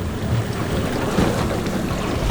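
Steady wind buffets the microphone over a choppy sea around a small fishing boat out snapper fishing, a constant, loud broadband rush with water slapping beneath it and no voices.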